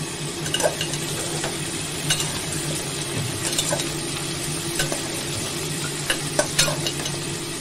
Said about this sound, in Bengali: ঢাকনা খুলে ভালো করে নেড়ে দেবো।